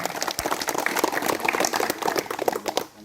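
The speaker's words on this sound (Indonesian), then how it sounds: "Tepuk tangan buat angkatan kita 219." Participants of Vertical Rescue Indonesia class 219 in Purwakarta applaud together, a dense run of claps with a few louder hits, steady for about three seconds before tapering off.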